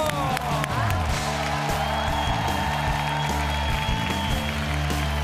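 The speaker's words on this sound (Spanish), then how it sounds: "Ahí está el aplauso para Escoba" Studio audience applauding on a Chilean TV singing contest, dense steady clapping and cheering under music, loud and continuous throughout.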